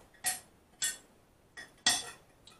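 Four sharp metallic clinks, a spoon being set down among pots and dishes while making a sweet chilli chicken casserole with vegetables, close and clear with short gaps between them.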